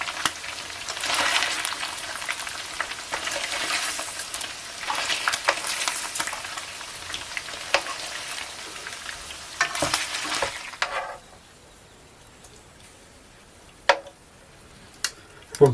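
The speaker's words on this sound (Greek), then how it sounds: "Λοιπόν, μόλις φύγει η υγρασία θα αφήσετε πλέον να τηγανιστεί" Pork pieces frying in oil in a pan, a steady loud sizzle with stirring scrapes for about eleven seconds, then the sizzle drops away to near silence with a few sharp clicks and knocks.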